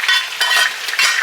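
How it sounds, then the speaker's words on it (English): Vegetables go into a hot skillet beside ribs, bringing a loud, close sizzle and frying hiss that swells in pulses as the pan is stirred and shaken. "we're going to go in with all of our veggies."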